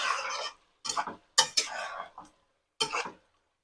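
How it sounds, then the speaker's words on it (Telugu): A spoon scrapes and stirs chicken fry mixture in a pan in short separate bursts, about five scraping strokes with brief silences between, close and fairly faint. "బాగా కలుపుకోండి."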